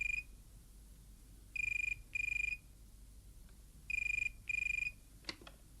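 An electronic telephone rings in two pairs of short trilling bursts, clear but not loud over a faint steady background hum, followed by a click as the handset is lifted.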